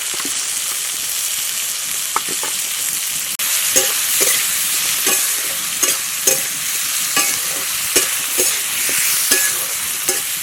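Chopped tomatoes and coriander powder fry in a hot pan, a steady bright sizzle broken by repeated scrapes and knocks of a spoon stirring, close and loud with no voices.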